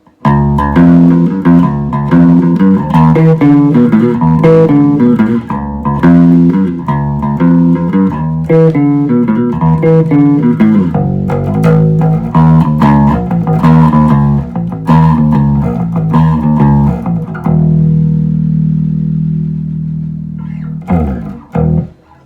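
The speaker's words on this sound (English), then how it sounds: "I'm using this Aerodyne jazz bass." Aerodyne jazz bass played through a Trace Elliot GP7SM amplifier, a loud punchy run of plucked bass notes and chords lasting about twenty seconds, ending on a sustained low note that rings out alone.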